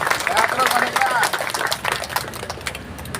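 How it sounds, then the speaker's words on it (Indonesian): An audience at a Maulid Nabi gathering of the Betawi community claps in a loud, sustained round of applause, with a voice over a loudspeaker running beneath it as the clapping gradually thins. "Kita berikan tepuk tangan sekali lagi."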